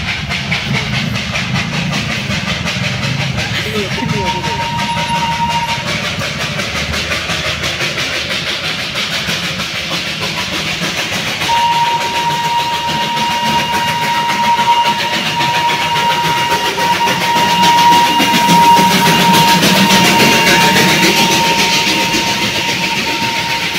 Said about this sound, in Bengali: হঠাৎই দেখছি যে এখান থেকে কিন্তু স্টিম ইঞ্জিনের টয় ট্রেন পাস করছে